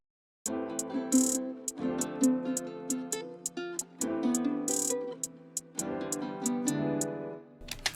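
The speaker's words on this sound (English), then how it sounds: "I also added a second hi-hat pattern here, which kind of sounds like this." A steady hi-hat pattern ticks crisply through an R&B guitar-style beat, with bright regular hits over sustained chords and a brief drop near the middle.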